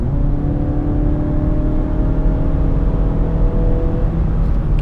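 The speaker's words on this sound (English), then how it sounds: "if I just go all the way foot to the floor, it'll automatically downshift like two or three gears" A 2017 Mazda 6 with an automatic transmission accelerates at full throttle after a multi-gear downshift. The engine hum holds steady and prominent from inside the car, with no talk.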